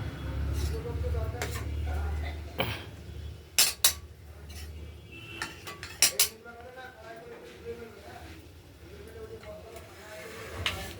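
Utensils clink and scrape against dishes while rohu fish curry with potatoes, beans and tomato is served into a bowl, a few sharp metallic knocks standing out over a low kitchen hiss, with a voice talking throughout.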